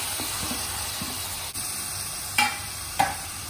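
Chicken frying in a pan with ginger garlic chili paste, a continuous close hissing sizzle with a few sharp clinks of a utensil stirring.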